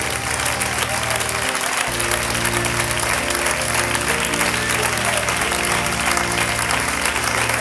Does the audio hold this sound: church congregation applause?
yes